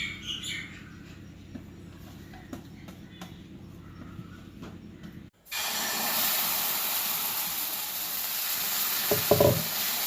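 Oats dosa batter hits a hot pan halfway through and a loud, steady sizzle takes over at once, replacing the quieter kitchen sounds heard before it.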